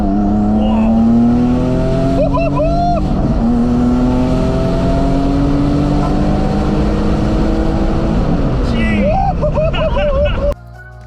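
A turbocharged car engine revs hard under heavy acceleration, its pitch climbing steadily through high RPM in repeated pulls with brief gear shifts, loud and close from inside the cabin, with a voice talking underneath.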